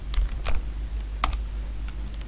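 Code is typed on a computer keyboard in a few scattered, soft key clicks over a low steady hum, with no talk.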